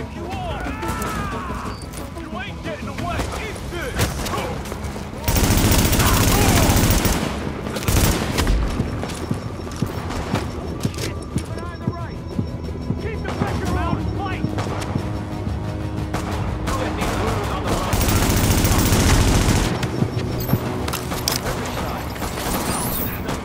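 Sustained gunfire from the video game Tom Clancy's The Division, with dense volleys and heavier bursts rattling through most of the stretch, while voices shout in the background.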